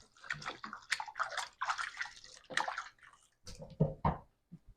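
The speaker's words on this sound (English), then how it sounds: "Let me wash my hands again." Running tap water splashing over hands being washed in a kitchen while cooking chicken and vegetables, a steady broken rush with uneven bursts of splashing and a brief pause near the end.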